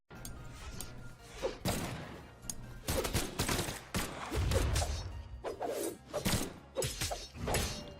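Guns firing in the fighting game Brawlhalla, bursts of rapid shots and impacts in quick clusters over several seconds, at moderate loudness against the game's background sound.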